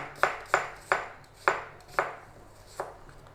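Knife chopping an onion on a cutting board, six or seven crisp, evenly spaced chops close by, with no talking.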